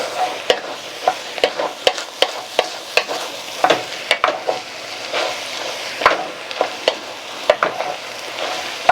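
Ground beef browns in a pan for truck stop chili, a low crackling sizzle broken by frequent sharp scrapes and taps of a utensil stirring in an irregular rhythm, close and clear with no speech.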